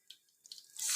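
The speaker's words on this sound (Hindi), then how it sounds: "थोड़ा सा पानी ऐड करेंगे, ज़्यादा नहीं," Water is added to rice and sugar while making degi mutanjan, giving a brief, faint trickle and splash that swells into a stronger pour at the end.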